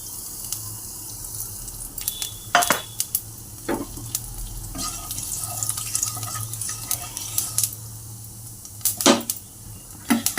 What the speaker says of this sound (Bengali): এবার এইখানে এই তেলের মধ্যে আমি এই যে কালো জিরে ফোড়নটা দিয়ে দেবো।